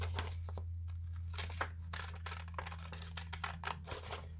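Paper being cut out into a circle with scissors, a soft continuous crinkling and snipping over a steady low hum, fairly close and quiet.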